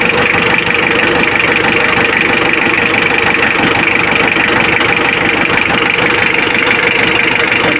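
A Mitsubishi Adventure diesel engine idles with the radiator off after a timing belt replacement, giving a steady, loud, close drone with a faint knocking clatter that holds for the whole stretch and has no talking over it.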